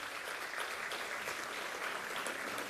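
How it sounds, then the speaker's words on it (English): Audience applause for a high school cheer team at a district event, a steady wash of clapping from a crowd, moderately distant and continuous without a break. "Let's give them a big round of applause to our Lynwood High School cheer team"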